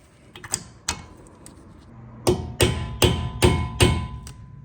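A hammer drives a pin into a Brembo brake caliper with sharp metallic taps, first a few scattered light strikes and then a run of five firm, evenly spaced blows close by.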